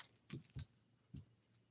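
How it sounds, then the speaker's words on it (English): A tarot deck is being shuffled, giving a few soft, crisp riffling bursts of cards at uneven intervals, quiet and close, with no talking. "I'm shuffling the Eye of Love Tarot."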